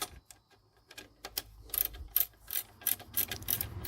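A ratchet wrench turns a 13 bolt during front drive shaft work on a 2007 Dodge Nitro, giving quick bursts of sharp clicking in irregular runs that grow denser toward the end.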